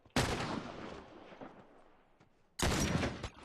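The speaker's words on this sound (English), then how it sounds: "The other one's shooting behind me." Gunfire in The Last of Us online multiplayer: two loud shots or bursts, one at the start and another near the end, each followed by a long fading echo, with quieter ambient game noise between them.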